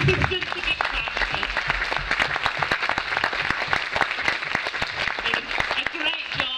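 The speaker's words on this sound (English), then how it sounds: "Please give all the teachers and assistants a big clap." Lively applause from a large audience at a school Christmas performance, dense and sustained, with individual claps standing out and voices mixed in.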